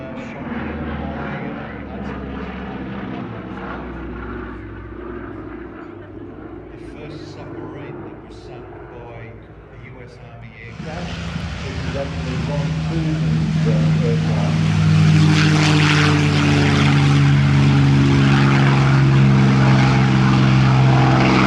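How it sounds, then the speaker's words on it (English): A Lockheed Hudson, the military version of the Electra airliner, flies at the Wings Over Illawarra 2022 airshow in Australia, its piston propeller engines droning with steady tones that swell sharply louder halfway through as it passes close. "Finally, here we have the Lockheed Hudson, the military version of the Electra airliner."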